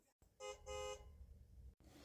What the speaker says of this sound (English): Bumper-to-bumper cars honked at one another.